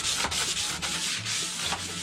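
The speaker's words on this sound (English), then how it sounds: "A little 220 wet sand." Wet sanding with 220 grit sandpaper for a camping canopy, heard up close as a loud, steady rasping rub in quick back-and-forth strokes with brief pauses between them.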